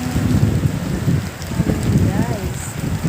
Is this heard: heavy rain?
yes